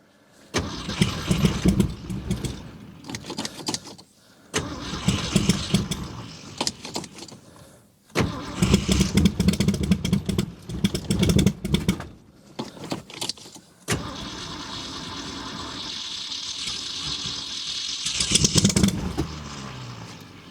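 An old car's engine cold-starts in below-freezing temperatures while running rough on only two cylinders. The close starter cranks in several bursts, then the engine catches into an uneven, sputtering idle.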